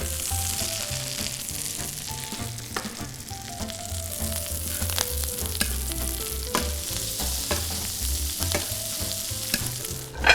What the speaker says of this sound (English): what we're going to do is flip it over and baste the other side.